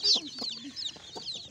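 A large batch of colorful baby chicks chirps continuously in a dense, high-pitched chorus of overlapping peeps, close and fairly loud, with a faint low murmur beneath.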